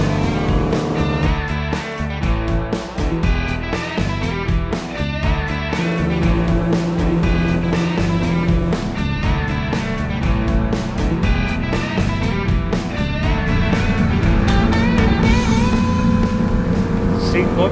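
A Trento 275 day cruiser motorboat engine runs at full throttle near 5,800 RPM, giving a loud, steady, continuous roar that holds throughout without a break.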